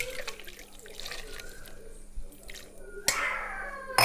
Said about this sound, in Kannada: ಲೋಟ ನೀರು ಪಾಡ್ಗ